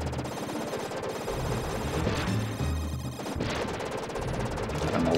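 Rapid gunfire from a wall of guns in the SNES game Super Probotector, a dense, continuous clatter of shots and explosions layered over loud game music for the whole stretch, with no talking.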